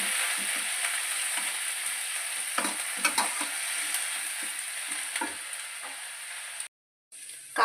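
Chopped onion, coriander leaves and cumin seeds, with tomato pieces, sautéing in a pan, a steady close sizzle broken by occasional stirring scrapes, then a brief silence near the end with no talking.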